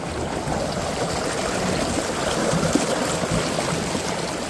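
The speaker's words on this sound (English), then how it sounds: "Water's flowing." River water rushes steadily around a kayak, a dense, continuous close-up wash of splashing and gurgling with no talking.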